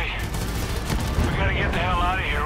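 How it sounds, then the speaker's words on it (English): Muffled gunfire coming through a wall in the Far Cry 5 shooter, a dense continuous burst of shots with game effects and voices underneath. "This kid is shooting me through the wall"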